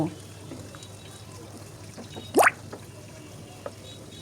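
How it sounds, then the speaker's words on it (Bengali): Water is poured into a pan of turmeric, chilli and coriander masala for beef brain bhuna, heard as one short trickling splash midway through a quiet kitchen background. "এখন পানি দিয়ে মশলাটা খুব ভালোভাবে কষিয়ে নেব"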